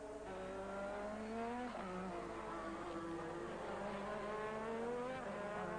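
1985 Formula 1 race cars at Monza screaming past, high wailing engine notes that rise and fall as they overtake, a continuous layered roar at moderate distance with no voice over it.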